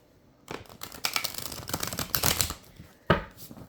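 A tarot deck is riffled and shuffled by hand, giving bursts of crisp papery flutter and soft card slaps, ending with one sharper tap, with no talking.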